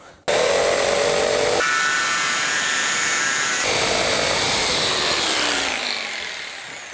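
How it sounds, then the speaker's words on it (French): Jigsaw cutting straight through a wooden plank along a clamped guide, a loud continuous buzzing saw tone lasting several seconds with pitch shifts as the blade works, fading slightly at the end. "Et il ne vous reste plus qu'à découper votre planche."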